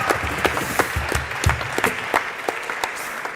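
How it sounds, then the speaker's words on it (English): An event audience applauds startup finalists and runner-ups at a venture pitch day, a steady wash of many hands clapping with scattered louder claps, sustained through the whole moment without speech. "All of the startups and all the finalists and the runner-ups now deserve a huge round of applause."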